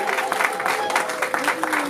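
A church congregation claps steadily and loudly at an investiture service, dense sustained applause with some voices mixed in, filling the whole short stretch.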